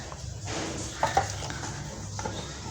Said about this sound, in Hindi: बर्तन इकट्ठे कर लेते हैं धोने के लिए